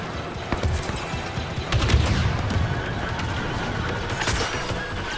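Dense gunfire rattles through a Star Wars Battlefront II multiplayer battle, rapid blaster shots and bursts overlapping into a loud, continuous fusillade with sharp cracks and a heavier thump midway, no voices.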